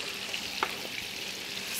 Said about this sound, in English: Now we're going to add the onion into it.